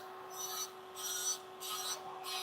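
An electric nail file drill running at 12,000 RPM files structured gel nails, giving a quiet steady motor hum broken by four short, soft grinding passes in a regular rhythm.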